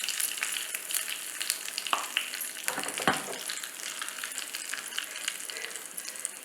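Dried red chilli and curry leaves crackle and sizzle in hot oil for a South Indian tempering, a steady dense hiss with scattered sharp pops and a few louder spits, close and without voices.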